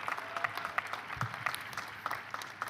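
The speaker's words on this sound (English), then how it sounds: "How about a round of applause for all the folks here who are supporting you?" Applause from guests at a university commencement ceremony honoring supporting families and friends, a loose scatter of claps in a large hall, fairly faint and distant with no talk over it.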